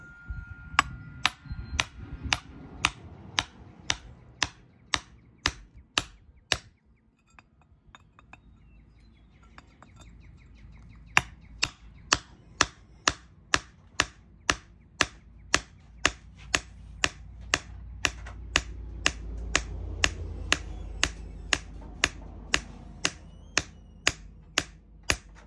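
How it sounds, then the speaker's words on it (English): A hammer repeatedly strikes geodes, sharp clicking impacts at a steady quick pace, close and loud, with a brief lull midway; faint birdsong and a low rumble sit in the background. "it's better just hit it with a hammer sometimes"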